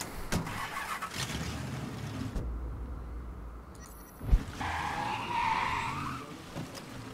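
A car in the open-world crime game Mafia III starts up and drives off with engine revving and tires squealing, a loud thump and skid partway through, and the motor droning on afterward without talk.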